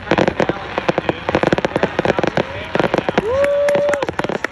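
A fireworks finale bursts at 1,000 feet in a dense, continuous barrage of crackling pops and bangs, with a rising whistling tone cutting through near the end, loud and busy, with voices under the noise.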